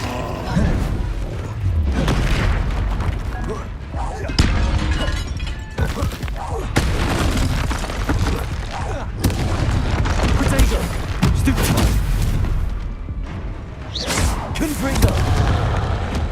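Repeated Confringo spell blasts in Hogwarts Legacy, booming fiery explosions going off one after another amid crackling and clattering combat effects, loud and dense throughout, with speech-like voices mixed in.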